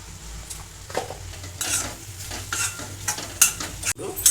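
A spoon stirs chili powder and other spices into tomato masala in a pan for okra curry, scraping and clinking repeatedly over a steady sizzle, close and fairly loud, with no talking.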